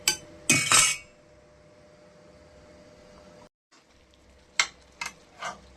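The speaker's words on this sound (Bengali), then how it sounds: "এই দেখুন বন্ধুরা, মাংস কষানো চলছে আমাদের।" Mutton being stirred and sautéed in a pan, with loud metal spatula scrapes and clinks at the start, a low sizzle between them, and a few more scrapes later, close up.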